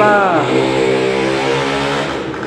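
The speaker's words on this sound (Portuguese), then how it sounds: "Ele tem que acelerar a moto assim" A motorcycle revs hard up close on a street as it rides past, its engine note climbing and then sliding down in a loud, continuous whine.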